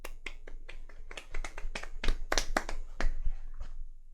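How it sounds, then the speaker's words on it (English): Small group of tabletop role-playing players clapping at the end of a story, with uneven, scattered hand claps of moderate loudness close by, growing denser midway and then thinning out. "You guys should clap too"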